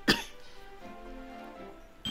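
A single sharp cough from a German gamer at a desk during play, loud and close, followed by a quiet room with faint background hum.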